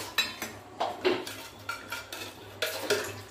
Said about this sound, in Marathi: त्याच तव्यावर खोबरं भाजून घेऊया।